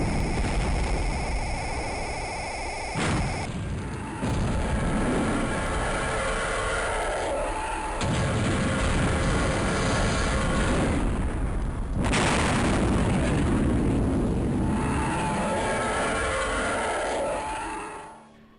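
A space station blowing up in the video game Star Wars: Rebel Assault, heavy booming blasts and rumbling crashes that swell and cut sharply several times before tailing off.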